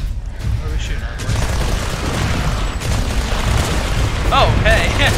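Gunfire and booming blasts from weapons in the online dinosaur shooter Primal Carnage: Extinction, a dense, continuous barrage of shots and explosions filling the whole stretch at loud volume.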